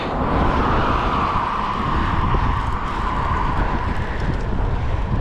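Strong wind buffets the microphone in a continuous low roar while cycling at nearly 30 km/h through Yakima Canyon, with no talking.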